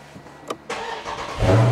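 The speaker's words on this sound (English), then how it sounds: "car starts right up" A 2023 Dodge Charger Scat Pack 392 engine cranks and fires, catching within a second and swelling into a loud, close idle.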